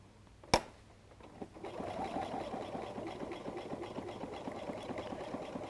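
A sewing machine stitches a messenger bag seam in a fast, even run of mechanical ticks and hum after a single sharp knock near the start, close and steady with no voices.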